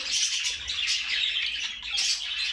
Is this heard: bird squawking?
yes